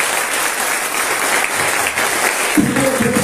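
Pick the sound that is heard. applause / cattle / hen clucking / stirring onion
applause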